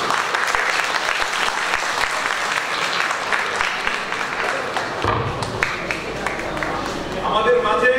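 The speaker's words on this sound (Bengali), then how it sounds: "প্লিজ সবাই একটু করতালি দিয়ে।" Audience applauding a stage play, steady dense clapping from a crowd that carries through, thinning slightly partway with some background noise and voices underneath.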